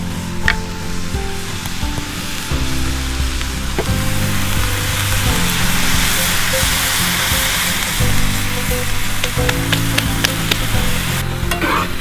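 Venison sausage and onions browning in a pan after savory seasoning goes in, a steady, close sizzle with frequent stirring scrapes and clicks running throughout, no voices.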